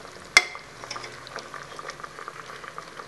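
Apple murabba sugar syrup simmering in a pot over a low flame, with soft, faint, continuous bubbling and one sharp clack near the start.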